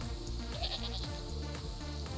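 Goats bleating in the survival game Dawn of Man, a few wavering calls set over steady, busy in-game music and ambience throughout.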